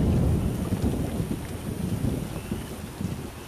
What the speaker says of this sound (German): Was für ein Sturm!